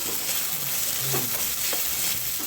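Onion, green chili and garlic stir-frying with sauce in a pan for chicken hakka, a steady close sizzle with scattered scraping stirs throughout, no talking.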